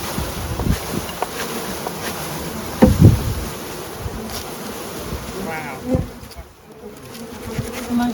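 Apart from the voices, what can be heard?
swarm of honey bees buzzing while installing a package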